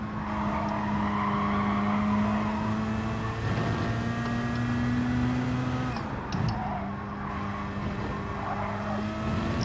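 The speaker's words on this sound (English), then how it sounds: "He's revving it there." Race car engines in the video game Gran Turismo 7 drone and rev steadily at close range, pitch rising and falling through gear changes, with a brief dip and tire noise partway through and no talk.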